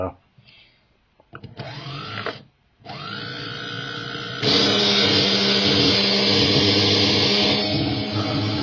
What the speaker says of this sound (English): let's put this bad boy in the dyno